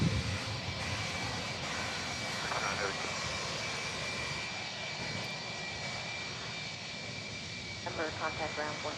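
FedEx Boeing 767 jet engines at Memphis airport give a steady, moderately distant roar with a high whine running through it, while radio chatter and voices come and go over the top.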